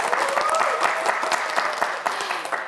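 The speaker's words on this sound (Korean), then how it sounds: "남유현 학생에게도 큰 박수 부탁드립니다" A studio audience at a televised science quiz show applauds for a student contestant, a full, even burst of clapping from many hands close by.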